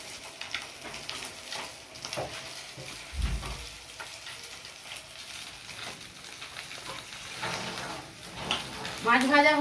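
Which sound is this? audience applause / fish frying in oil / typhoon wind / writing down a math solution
fish frying in oil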